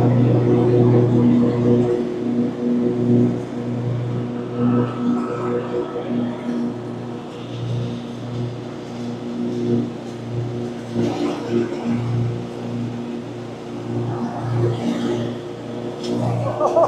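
A ZimAni zero-turn garden tractor mows grass, its engine droning loudly and steadily close by, with the pitch rising and falling as it works.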